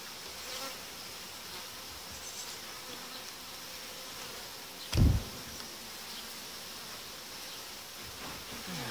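Honeybees buzz steadily and densely around a screen separating two colonies being merged, a continuous close hum with one brief low thump midway.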